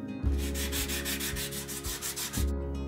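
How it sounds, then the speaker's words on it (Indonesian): Coconut shell and bamboo sanded by hand with sandpaper, close rhythmic scraping strokes at a steady pace, about a dozen back-and-forth rubs. "haluskan permukaan kopra dan bambu menggunakan amplas"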